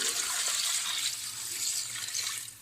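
Water pours steadily into a cooking pot of nalli nihari meat, a continuous splashing rush that stays loud and close for the whole stretch.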